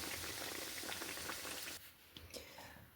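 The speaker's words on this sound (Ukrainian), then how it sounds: "кладу на сковородку, жарю" Khachapuri made with processed cheese fries in a pan, giving a steady close sizzle for most of the clip that drops to a quieter crackle near the end.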